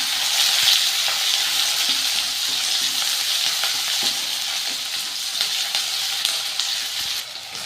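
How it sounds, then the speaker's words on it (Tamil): Steady sizzling and crackling of onions and curry leaves frying in a hot pan with mustard seeds and urad dal, with occasional stirring clicks, continuous and close. "வெங்காயம் கருவேப்பிலை போட்டு வதக்கிக்கலாம்"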